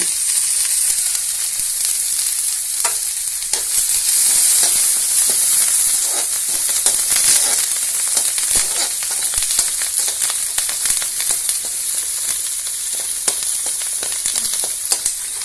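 Onion, white garlic and curry leaves sautéing in oil in a pan for pirandai chutney, a steady loud sizzle and hiss throughout with occasional soft stirring scrapes, no voices.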